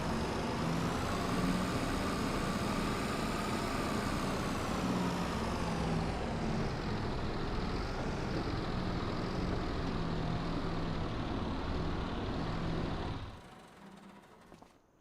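A tractor engine in Farming Simulator 25 runs at a steady, loud, continuous rumble with a whining pitch that dips and shifts, then cuts off abruptly near the end, leaving a faint hum.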